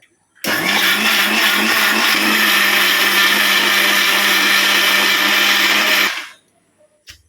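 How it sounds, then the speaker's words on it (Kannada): A kitchen mixer grinder whirs loudly and steadily for about six seconds as it grinds masala with a little water for Mangalorean bondaas sukka, then winds down into silence. "ಮಸಾಲ ಮಿಕ್ಸಿಗೆ ಪಾಡ್ದೆ ನಾನೇನು ಶೋಕು ಒಂತೆ ನೀರು ಪಾಡ್ದು ಗ್ರೈಂಡ್ ಮಾಡ್ತಾರೆ"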